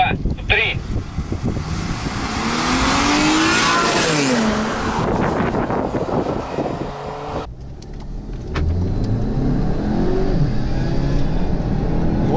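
Cars launch in a drag race, among them a Hyundai Solaris 1.6 and a VAZ 2113 1.7 on individual throttle bodies. Engines rev hard and climb through gear changes as they pull away, with wind noise and people talking nearby.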